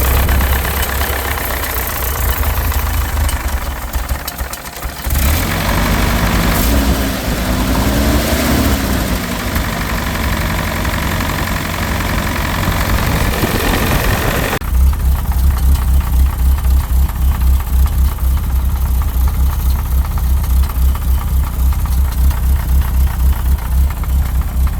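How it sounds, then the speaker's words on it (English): A rare Jeep's engine runs roughly, a steady loud idle with a rattling, knocking texture that continues throughout, turning into a harsher, pulsing throb partway through. "The motor sounds terrible."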